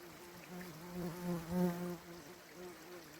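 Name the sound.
flies buzzing around an animal's nose on the trail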